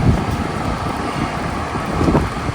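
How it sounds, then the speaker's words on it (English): Ceiling exhaust fans pulling hot air out of a house attic in hot weather after Hurricane Beryl, a steady broad whooshing roar with low rumble, constant and close with no talk. "we got these ceiling exhaust fans on right here to exhaust the hot air"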